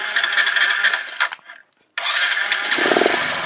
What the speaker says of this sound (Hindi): जैसे हम बाइक को स्टार्ट करते हैं